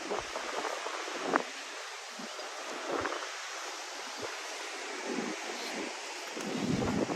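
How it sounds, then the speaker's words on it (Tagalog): A steady outdoor breeze rushes across the microphone on a misty day by the ocean, with soft buffeting gusts and a faint wash that could be surf behind it. "Pero sarap ang simoy ng hangin."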